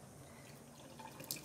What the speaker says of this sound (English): just grab your rocks, run a bit of water on them